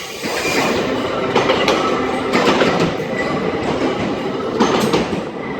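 A Class 800 TransPennine Express train passes close by, a steady loud rumble of wheels on rail with rhythmic clicks over the joints and a faint squeal, with no voices.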